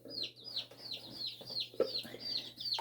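Baby chicks huddled under a brooder warming plate, peeping close by in a steady run of high, repeated chirps, several birds overlapping in quick succession over a low hum.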